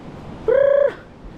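A pigeon calls once outdoors near a fishing spot, a single short, loud, tonal coo-like note of about half a second standing clear of quiet background.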